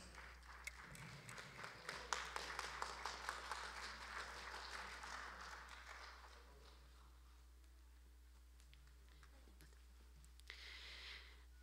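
Applause from the audience at a youth road-safety training session in a university hall, greeting the prevention manager as she comes up. Dense, steady clapping lasts about six seconds, then thins out into a quiet, faintly noisy room.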